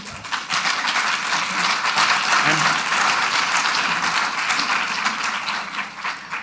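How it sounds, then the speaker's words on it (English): Steady, dense applause from the audience at a Saskatoon mayoral debate fills the room, holding at an even level from start to finish with no voice over it. "I think we should give our candidates and our panelists another round of applause."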